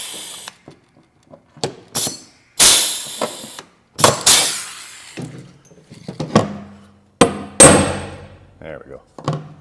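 Sharp hammer blows tap mushroom-cap imitation huck rivets into a Peterbilt 359 truck during restoration, about a dozen irregular metallic strikes close by with gaps between them.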